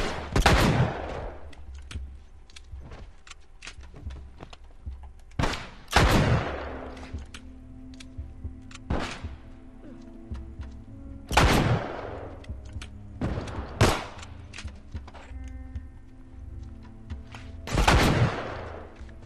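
Gunfire in The Last of Us video game, with about seven or eight sharp, loud single shots at irregular intervals across a quiet stretch, each with a short ringing tail.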